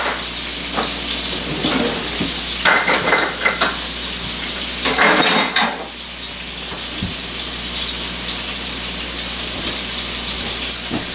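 Hamburger steak patties fry in a pan with a continuous crackling sizzle, joined midway by a few louder bursts and clatters as they are moved around.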